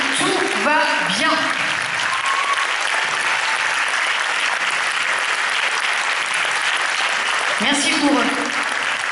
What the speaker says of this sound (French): vous pouvez vous lever et vous pouvez les applaudir